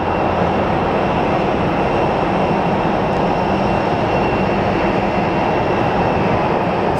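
An Alaska Airlines airliner in oneworld livery taxis past at Phoenix Sky Harbor International Airport, its jet engines giving a steady, loud, broadband roar that holds unbroken throughout, with no talking.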